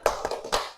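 A few quick, close hand claps in a rhythmic tepuk sakinah pattern from a marriage-guidance training session: a sharp clap, two lighter ones, then a final clap, all within under a second.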